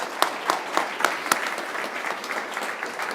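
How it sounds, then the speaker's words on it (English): Audience applause at the main stage of an AI summit in Pittsburgh, a steady patter of clapping with a few sharper claps standing out, moderately loud and continuous with no talking. "So one more round of applause, and thank you all so much."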